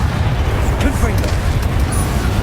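A Confringo blasting spell erupts during a Hogwarts Legacy fight, loud and continuous, a dense, booming roar of fire and explosions filling the whole stretch with no clear gaps.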